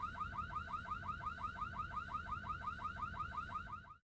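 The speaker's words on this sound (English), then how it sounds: "This fire alarm sounds so real." A rapid, repeating electronic fire alarm warbles steadily at a fast rhythm, loud and continuous, then cuts off abruptly at the end, in the video game Tales of the Abyss.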